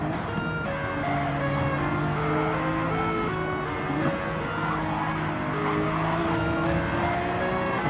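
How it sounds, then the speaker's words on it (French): Race car engines and tire noise from Gran Turismo 7, a Honda NSX racing at Suzuka with a rival car close behind, as a steady dense engine drone with shifting pitch tones, loud and continuous throughout. "j'entends Hydro qui roule derrière moi"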